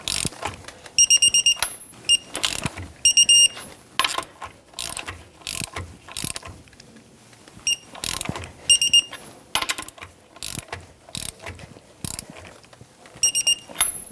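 Ratcheting torque wrench tightening the rear shock bolts on a 1997-2006 Jeep Wrangler to 110 foot-pounds in a crisscross pattern, with repeated bursts of close, crisp clicking separated by short pauses, ending in sharp click-outs.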